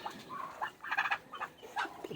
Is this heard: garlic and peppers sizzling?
no